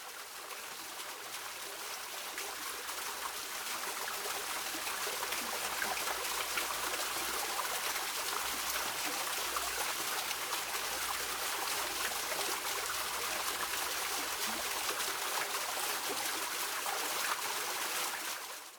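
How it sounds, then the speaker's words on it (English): A waterfall in a sheltered garden in Glastonbury gives a steady, moderately soft rush of falling and trickling water, constant throughout with no voices. "there is a beautiful waterfall"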